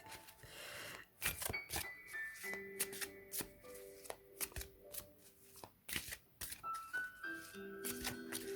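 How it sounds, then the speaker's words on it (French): A deck of cards is shuffled and handled close by, with sharp riffling bursts and soft slaps in an uneven rhythm, quiet overall with faint tonal background sounds. "Je vais battre les cartes."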